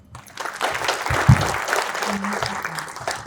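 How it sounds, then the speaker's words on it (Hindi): Audience applause at a public address in Lucknow, a dense sustained wash of clapping that swells quickly and holds steady for a few seconds. "एक बार और थोड़ी जोरदार तालियां बजा दीजिए"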